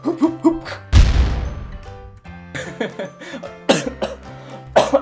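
A person coughs and clears their throat in several bursts, with a loud thump early on and a few harsher coughs toward the end.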